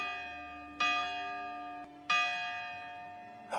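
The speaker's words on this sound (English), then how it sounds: "or when a morning church bell rings" A morning church bell rings with two clear, resonant strikes about a second apart, each leaving a long humming decay, followed by the start of a third strike, with no voices.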